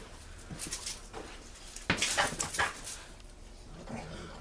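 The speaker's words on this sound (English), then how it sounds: "Right now my dog's having a fight with another dog and everything." Two dogs fighting outdoors, with scattered growls, whimpers and yelps building to a loud flurry of snarls and barks midway, then trailing off into quieter yips.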